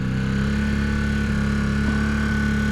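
Honda CB250 Super Dream motorcycle engine idling steadily in neutral at low revs, a close, continuous, even hum with no talk.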